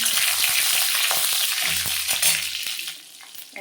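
Green chilli and ginger hit hot oil for a tempering in a vegetarian pumpkin and potato curry, a loud close crackling sizzle with sharp spatters and stirring knocks that gradually calms toward the end.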